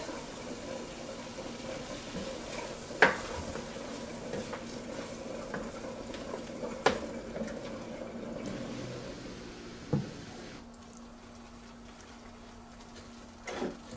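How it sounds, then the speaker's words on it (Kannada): Tomato puree poured into hot oil in a pan while making pizza sauce, sizzling and frying steadily with occasional stirring scrapes and clinks of the spoon, close and fairly quiet, with no talk. "ಈ ಟೈಮಲ್ಲಿ ಮಾಡಿಟ್ಕೊಂಡಿರೋ ಟೊಮೆಟೊ ಪ್ಯೂರನ್ನು ಹಾಕ್ತಾಯಿದ್ದೀನಿ"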